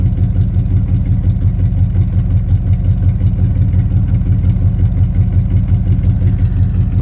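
A 1972 Chevy Chevelle barn find idles through its exhaust with a steady, loud, rhythmic burble, close and continuous with no talk over it.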